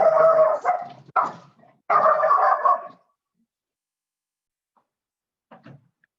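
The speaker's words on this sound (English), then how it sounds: "That was the dog who was barking." A small Chihuahua yaps in several sharp, rapid bursts of barking, then falls quiet, with a faint short yip near the end.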